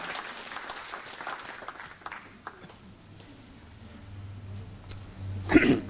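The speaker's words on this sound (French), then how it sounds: "On peut l'applaudir, lui souhaiter la bienvenue au milieu de nous" A small gathering at a French talk or study session claps to welcome a speaker and his wife, a short burst of applause that fades after a couple of seconds into quiet room noise.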